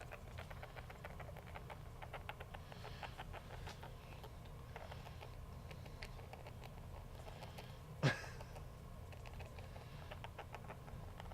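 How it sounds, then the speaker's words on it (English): A pet rat kept as snake feeder skitters and scratches quietly in its enclosure, soft rapid patters continuing throughout with one sharp brief knock partway. "That is a noisy rat too."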